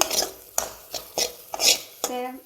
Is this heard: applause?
no